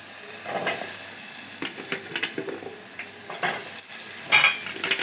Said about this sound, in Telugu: మనం సన్నగా కట్ చేసి పెట్టుకున్న ఆనియన్స్, పచ్చిమిర్చిని అయితే వేసేసుకున్నాం.